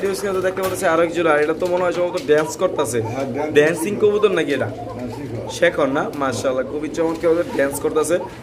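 Pigeons coo repeatedly at a pigeon farm, a steady chorus of soft throaty calls running close by beneath continuous conversation between several people.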